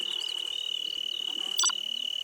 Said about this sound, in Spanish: el sonido de los insectos,